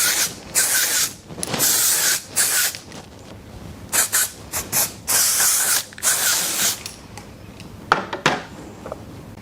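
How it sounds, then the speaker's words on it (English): Dry texture hair spray from an aerosol can, hissing in a series of bursts of varying length, close and loud, with brief pauses between sprays. "I'm going to use the dry texture spray today, but just remember when you first spray this on, it can be a little bit wet"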